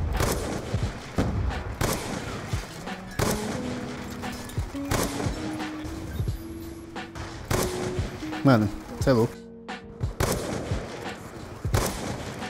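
Bursts of gunfire in Call of Duty: Black Ops 2 crack repeatedly, with sharp single shots and rapid clusters, while someone talks excitedly over them.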